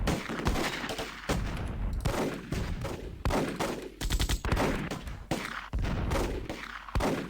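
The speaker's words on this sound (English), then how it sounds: "I'm going to have you shoot at that MG42. At least suppress them." Dense, continuous gunfire from a Close Combat video game battle, aimed at a German MG42 position: loud overlapping bursts and rattling shots with thuds, with brief gaps between volleys throughout.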